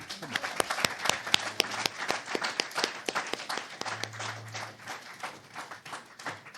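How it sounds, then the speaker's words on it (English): An audience at a religious gathering gives a round of applause, with distinct individual claps standing out sharply over the crowd, steady and close throughout. "Would you join me in giving everyone who's come before us another round of applause?"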